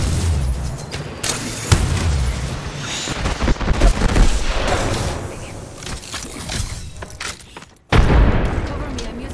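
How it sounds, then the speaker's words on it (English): Rapid weapon fire rattles through an Apex Legends ranked match, loud dense bursts of shots and impacts running almost without a break, with a sudden heavy blast near the end and a voice talking over the action. "Firing."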